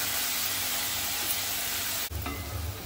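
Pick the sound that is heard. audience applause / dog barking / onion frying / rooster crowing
onion frying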